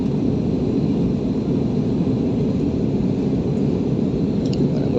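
Inside an airplane cabin flying through clouds with turbulence, a loud, steady broadband engine and air roar continues evenly throughout, with no voices.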